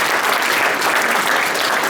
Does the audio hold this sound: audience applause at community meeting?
yes